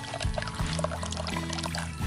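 Water pours steadily from the spout of a container fed by a small mini water pump in a garden setting, a continuous close splashing stream lasting about two seconds with no talk.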